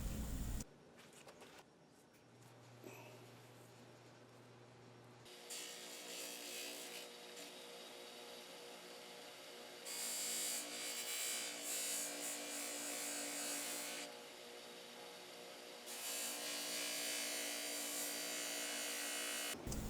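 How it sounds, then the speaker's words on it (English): Stainless steel ring cut from a nut being sanded by hand, stepping up through sandpaper grits, with steady broadband abrasive rasping that swells in several sustained louder passes, close and alone without talk. "now I just start stepping through the sandpaper higher up on the grit throughout the whole ring"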